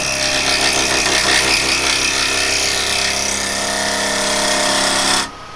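Traditional woodturning tool cutting a spinning wooden piece on a lathe, a loud, steady rough scraping whir held for about five seconds before it cuts off abruptly.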